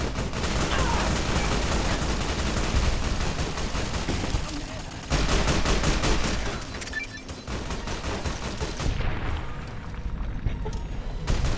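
Sustained gunfire in Fallout: New Vegas, dense rapid bursts and shots running almost continuously at close range with a brief break midway, a voice faintly present beneath.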